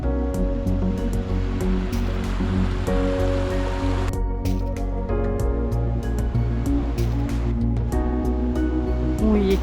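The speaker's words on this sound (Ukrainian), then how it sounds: "Річка пробила собі от такий вихід у скелі прямо." A river bursting out through an opening in a tall rock cliff in the Kościeliska Valley roars steadily and loudly, a dense unbroken rush of water with no let-up throughout.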